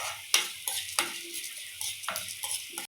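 Chana dal, urad dal and coriander seeds roasting in a pan, with close scraping stirs and rattling at a steady rhythm over a soft continuous sizzle.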